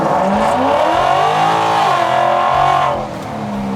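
A 1976 Ford F100 truck engine revs up and holds high through manual sport shifting, its pitch rising then settling as the revs drop near the end, loud and close with no talking.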